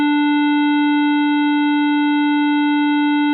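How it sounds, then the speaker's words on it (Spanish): A synthesized tone close to a square wave holds a single pitch with bright, buzzy harmonics, steady and loud for over three seconds with nothing else around it. "lo que va a sonar es algo muy parecido a la onda cuadrada"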